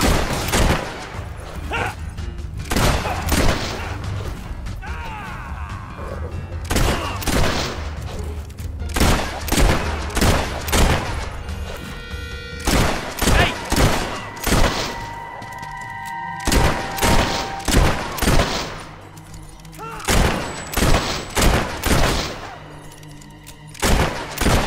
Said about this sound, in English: Sucker's shooting at us!